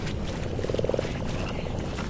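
Frogs croak in a video game, a short run of repeated croaks rising over steady low game noise and rumble before fading back into the background.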